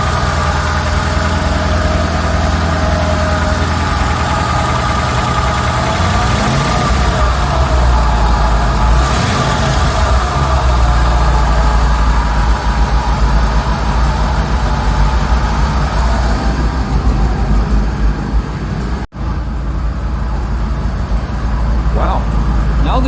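Rolls Royce Silver Shadow engine idling after a choke fix, a steady low rumbling drone held close and loud throughout with a brief dip near the end, with speech also present.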